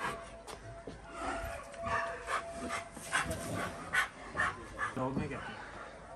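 A dog near a lion gives a series of short yips, whines and barks at irregular intervals over a noisy outdoor background, with people talking throughout.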